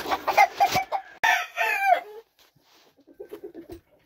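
Black roundhead game chickens on a spring farm, clucking loudly and crowing up close in the first two seconds, then a quieter run of soft, rhythmic clucks trailing off.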